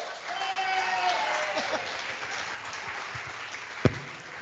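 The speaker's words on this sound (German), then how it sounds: "Also kleiner Applaus für unser Feuer" A small audience applauds at a German convention opening, celebrating a fire; light, scattered clapping runs throughout with a little background noise and one sharp knock near the end.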